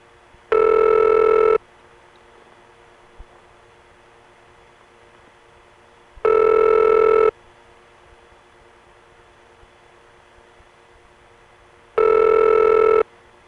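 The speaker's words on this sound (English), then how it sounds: "every time we call Highland Mills with its odd carrier noise and high-pitched ring" Telephone ring tone on a step-by-step exchange line to Highland Mills in the 914 area, dialed from New York City: three loud, steady ring bursts about a second long, six seconds apart, with a faint hissing carrier noise between them.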